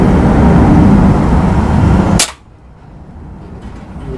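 A Beeman 1357 air pistol fires one sharp, loud crack, cutting off a steady rushing background noise just before a quieter hush.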